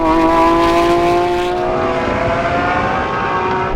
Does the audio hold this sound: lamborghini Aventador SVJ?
yes